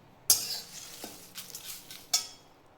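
Bay leaves dry-roasting in a pan while being stirred, with a few sharp metallic scrapes and clinks of a spoon against the pan, spaced irregularly over quiet background.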